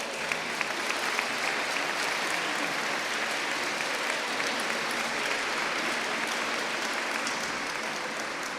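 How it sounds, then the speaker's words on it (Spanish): Sustained, steady applause from a large audience at a Catholic lay congress in Spain, a dense wash of clapping holding at an even level throughout with no voices over it. "quiero un aplauso muy grande para ellos"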